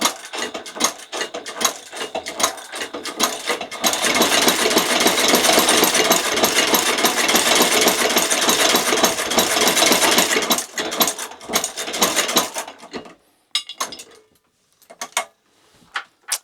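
A walking-foot sewing machine stitches thick leather for resoling White's boots with Dr. Sole soles: a loud, rapid mechanical clatter runs continuously, then breaks into short start-stop bursts near the end.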